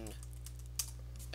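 Keys typed on a computer keyboard while searching the App Store on a Mac, a short run of quiet clicks with one sharper keystroke, faint and close against a steady low hum.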